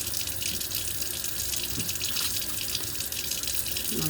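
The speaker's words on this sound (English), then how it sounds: "I have a habit of keeping the water just running." Kitchen faucet left running, a steady broadband rush of water pouring into a sink, constant and fairly close, with no talking over it.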